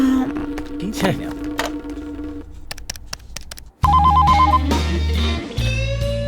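A telephone rings with a repeating electronic tone pattern over background music in a Hindi-dubbed film, loud and close.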